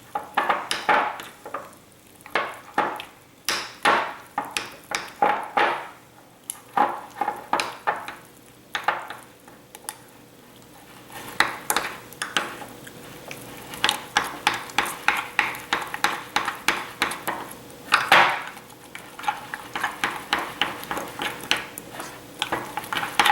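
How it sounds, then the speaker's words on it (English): Melting ingredients for a spaghetti cake stirred in a pan, with repeated close scraping and tapping strokes of a utensil, in uneven rhythmic bursts separated by short pauses. "I think I'm just going to keep stirring it and see if the residual heat will melt those other ones"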